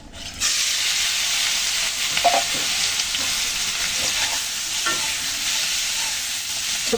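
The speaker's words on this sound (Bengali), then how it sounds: "এখন চিংড়িগুলো ভেজে নেবে তেলের ভিতরে।" Prawns hiss and sizzle in hot oil for a prawn kalia, a loud, even frying roar that starts suddenly and holds steady, with a few faint clicks of a spatula.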